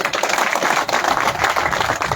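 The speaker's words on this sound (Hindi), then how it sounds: "ताली बजा के स्वागत कीजिए।" An audience claps to welcome someone at a Hindi-language political talk about Congress party MLA tickets and the Bishnoi community. The applause is dense, loud and continuous, with no speech over it.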